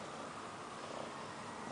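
A black kitten riding on a person's shoulders purrs loudly and steadily at close range, a continuous rumbling drone with no other sounds.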